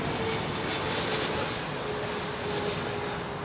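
Airliner arriving at London Heathrow Airport, a loud continuous broadband engine roar heard close and steady throughout, with no talk over it.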